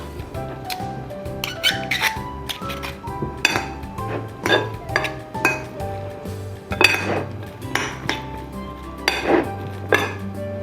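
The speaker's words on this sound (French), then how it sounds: "Et là, on va mélanger pareil." Ingredients for a toast topping are stirred in a bowl, with a spoon repeatedly clinking and scraping against the dish in irregular bursts, close and clear with no talking.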